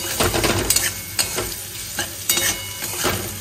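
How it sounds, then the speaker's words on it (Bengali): Cumin powder and ginger paste sauté in a pan with a soft hiss, broken by repeated scraping and clattering stirs of a spatula, close and without speech. "এটা দিয়ে ভালো করে একটু কষিয়ে নেব"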